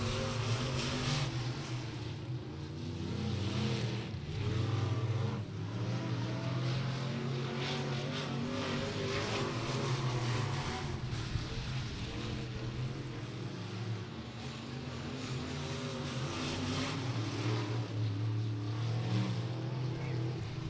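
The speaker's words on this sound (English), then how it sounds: "Next car out to qualify." Race cars running qualifying laps at Beckley Motor Speedway in West Virginia, a continuous engine roar that swells and fades slightly as the cars circle the track, heard from a distance with no talk.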